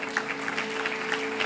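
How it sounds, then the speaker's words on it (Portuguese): Brief burst of church congregation applause during a sermon, a fairly faint, even patter of many hands with a steady tone humming beneath it. "Dá para aplaudir a Deus aqui,"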